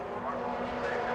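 A Mazda race car roars past on the Brands Hatch circuit in a 2019 Mazda Super Series race, its steady engine drone loud and continuous under race commentary.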